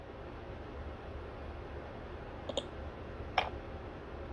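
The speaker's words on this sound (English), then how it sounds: "type 4, and press Enter" Two faint, sharp key clicks on a computer keyboard, a number key and then the Enter key, sound about a second apart over a steady background hiss.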